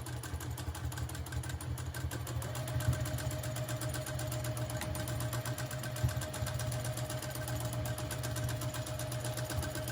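Sewing machine stitching free-motion flowers on a quilt held in a quilting frame: a steady, fast mechanical whir with rapid rhythmic needle ticking, close and constant throughout.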